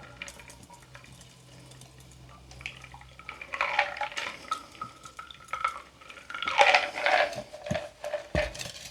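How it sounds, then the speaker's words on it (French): Cablegram cocktail poured from a shaker through an ice strainer and fine strainer into a glass, ice clinking and liquid splashing in two louder bursts over a quiet background. "Et on verse tout ça dans notre verre."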